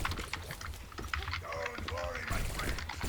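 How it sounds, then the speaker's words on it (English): Loud, rapid clacking of computer keyboard typing at an Overwatch esports match rattles on throughout, close to the microphone and mixed with brief voices. "Someone's really big with their typing, and loud."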